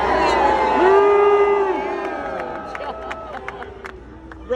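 A large outdoor political rally crowd at Queensbridge Park cheers and whoops, loud and close at first, then tapering off, with a lone voice calling out above the noise.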